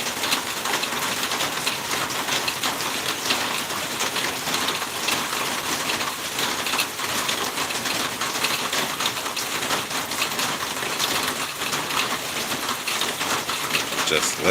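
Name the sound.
rain falling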